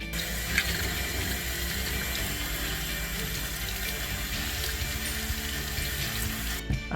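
Water is flushed backwards through a hose-end water saver nozzle, a continuous close rushing and hissing flow with faint mechanical rattling throughout and no speech.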